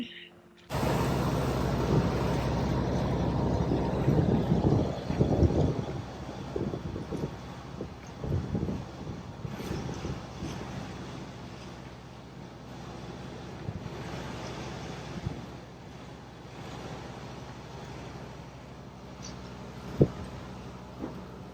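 Steady, heavy wind rushing and buffeting across the microphone on a boat, loud at first and then easing slightly, with a few faint bumps.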